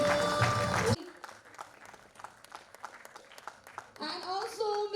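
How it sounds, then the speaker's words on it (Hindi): Applause from an audience at a stage event: scattered, fairly faint clapping fills a few seconds between stretches of a woman's speech over a microphone. "जोरदार तालियां हो जाए हमारे सारे"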